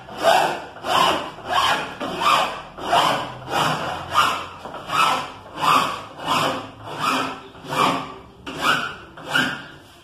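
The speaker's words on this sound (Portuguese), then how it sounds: "Tirou o excesso, aí sim nós vamos trabalhar com a parte pranchada aqui da lima." A hand file pushed along the edge of Formica laminate, trimming away the excess, gives a steady series of about a dozen rhythmic rasping strokes, close and fairly loud, with no talk.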